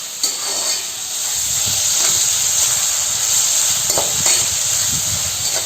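A tomato mixture cooking in a pan for chivda farsaan bhaji hisses steadily with steam while a spoon stirs it, giving a few soft scraping knocks against the pan.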